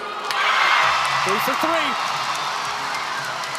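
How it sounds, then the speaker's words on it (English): Crowd noise fills an arena during a Georgia Gymnastics home meet against Florida, a broad, steady roar of cheering that holds throughout while a commentator speaks over it. "This crowd is wild for Georgia Gymnastics."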